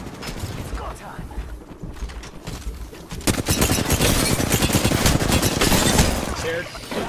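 Apex Legends gunfire, dense rapid automatic bursts and overlapping shots crackling continuously and growing louder in the second half, with game mechanisms and effects mixed in.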